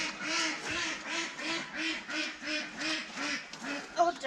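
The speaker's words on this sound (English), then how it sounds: "Oh, ducks." Ducks in a garden quacking in a steady, rhythmic series of nasal calls, about a dozen evenly spaced quacks at moderate distance, with a brief extra squawk at the end.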